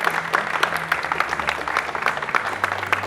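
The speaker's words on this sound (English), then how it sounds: "Big round of applause for Niko Cho, Tyler Tran, and Naoki Hayashid" Audience applause breaks out at the close of the Asian Championships of Shoe Shining final in Singapore, a steady wash of clapping from a crowd with a low hum underneath.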